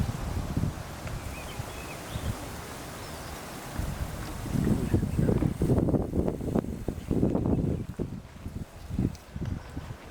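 Strong wind on the Sea of Galilee, gusting and rumbling against the microphone with rushing noise that swells and pulses in the second half, loud and close.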